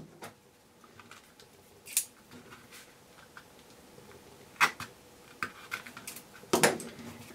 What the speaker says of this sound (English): let's put a little snip with our scissors